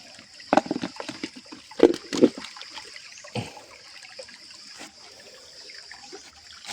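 Water at a rural well where people bathe, splashing and trickling in irregular bursts with a few louder pours early on, then a softer steady background of running water.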